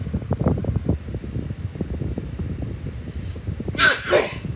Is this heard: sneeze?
yes